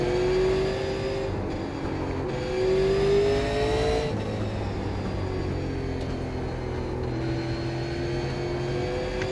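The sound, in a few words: Super Late Model race car engine driven hard, iRacing video game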